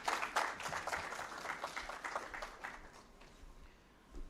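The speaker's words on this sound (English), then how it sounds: "Let's clap for her." A round of applause from a small audience at a directors and company secretaries conference, strongest at the start and thinning out to scattered claps before fading.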